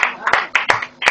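A church congregation claps in quick, uneven bursts of applause, close and loud, with voices mixed in.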